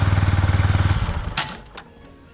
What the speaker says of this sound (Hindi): देख सकते हो बाइक स्टार्ट हो चुकी है